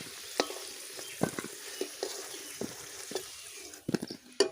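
Potatoes frying in oil with a pinch of salt for a Bengali chicken and potato curry, a steady soft sizzle broken by repeated scraping stirs of a spoon in the pan.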